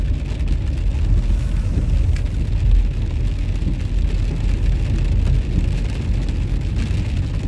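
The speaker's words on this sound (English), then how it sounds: "we'll be driving in the rain" Rain pours steadily while a car drives along, a thick continuous wash of droplets and low road rumble with no one speaking.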